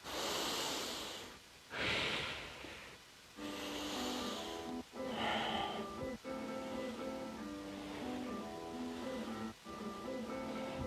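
Deep breathing during a revolving triangle pose in a wall yoga and stretching session, with a few strong, close breaths and sharp inhales over soft background music.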